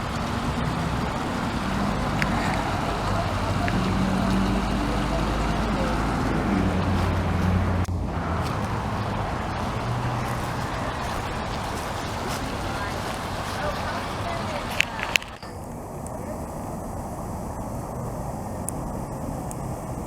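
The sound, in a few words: running water, small waterfall in a creek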